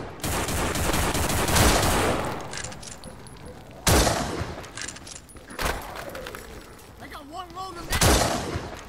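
Gunfire in the zombie shooter No More Room In Hell on a custom Ishimura map comes as loud repeated bursts of shots and impacts, several heavy blasts a few seconds apart, close and dominant over game noise.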